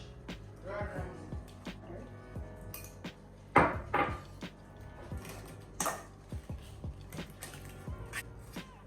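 Banana bread batter is whisked in a bowl by hand, giving irregular clinks and light scraping taps of metal on the bowl, with a louder clatter midway and voices faintly in the background.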